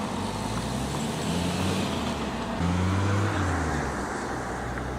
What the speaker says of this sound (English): The cars are off here now, heading into the unknown from Stroud.